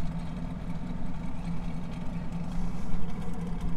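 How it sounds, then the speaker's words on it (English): A car engine coasts after the throttle is released while the car rolls down the road, giving a steady, low, moderately quiet drone with faint road rumble and no talk. "So now I'm just going to let off the throttle. We're just rolling down the road here."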